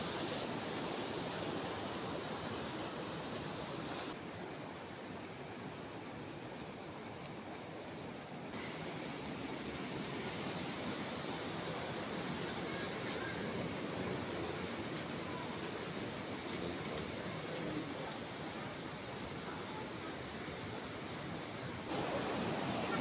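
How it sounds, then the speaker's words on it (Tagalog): River flowing right beside Bugya Hot Spring in Hungduan, Ifugao, Philippines, a faint, steady broadband rush of water continuing unbroken throughout. "Tapos katabi lang mismo ng ilog."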